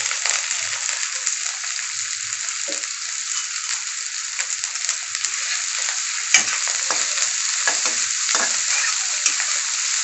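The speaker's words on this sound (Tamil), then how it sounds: "எல்லாத்தையும் நல்லா வதக்கிடுங்க." Onion, garlic and curry leaves sauté in a pan for a cluster beans stir-fry, with a loud continuous sizzle close up and scattered scraping stirs over it.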